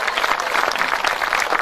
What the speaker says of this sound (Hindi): एक बार जोरदार तालियां बजाकर बताइए कि आप मुझे सुन रहे हैं।